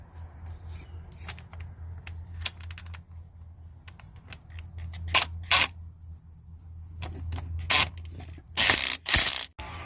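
Starter bolt on a 2005 Toyota Sienna being tightened with a ratchet: scattered metallic clicks and sharp taps, then faster bursts of ratcheting near the end, close by over a low hum and a steady high whine.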